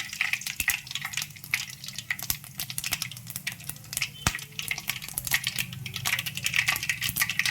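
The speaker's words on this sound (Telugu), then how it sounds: "ఆయిల్ కాగింది. ఇందులో జీలకర్ర వేసుకోవాలి, ఆవాలు వేసుకుందాం" Cumin and mustard seeds frying in hot oil for a tomato chutney, a close steady sizzle full of rapid crackles and pops that build slightly in density, no talking.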